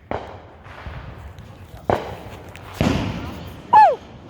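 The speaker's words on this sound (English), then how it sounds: "That's a big firecracker." Firecrackers going off during a 4th of July night outdoors, a few sharp bangs spaced over several seconds at moderate distance, with a person's whoop at the end.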